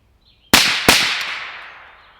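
Two sharp rifle shots from an SD Tactical Arms M22, about a third of a second apart, loud and close, each with a long echoing decay, no talking.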